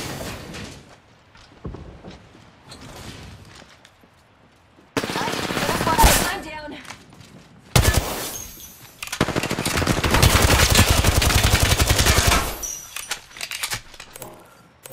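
Gunfire in the video game Apex Legends, with bursts of rapid automatic shots and loud, dense volleys in the middle and a few scattered single shots, mixed with quieter game effects.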